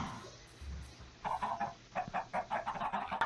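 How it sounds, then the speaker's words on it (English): Minecraft chickens at a village farm cluck in short repeated bursts, faint and close, with a low background hum. "And then the chickens."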